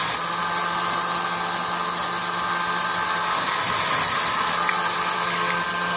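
A small home-built mini lathe runs while turning a pin, giving a steady, close whirring motor drone with a constant high-pitched hum and no talk.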